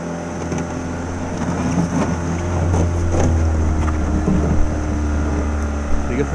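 An outboard motor on a small boat on a river runs with a loud, steady drone, with wind buffeting the microphone and people talking over it.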